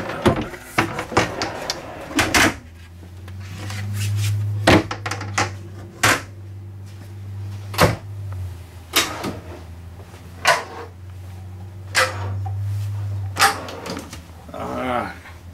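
Kitchen cabinets and drawers in a new 2018 Newmar Ventana 4369 diesel motorhome are opened one after another, giving a series of sharp wooden knocks and clicks over a steady low hum, with someone talking between them.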